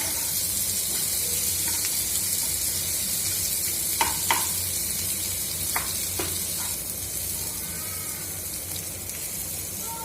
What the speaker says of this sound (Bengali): এরপর আমার পেঁয়াজগুলো লাল লাল করে ভাজা হয়ে গেছে